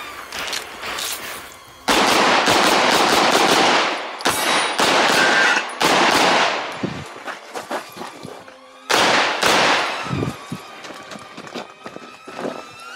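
Gunfire rings out during a stage of a Halloween costume shooting match. Loud, rapid strings of shots crack close by, with pauses between bursts and scattered single shots near the end.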